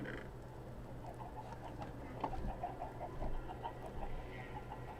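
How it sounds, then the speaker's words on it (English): Chickens cluck in a video game: a few brief, faint clucks rise over a steady, busy game background. "What if you could put a chicken in a box in this game?"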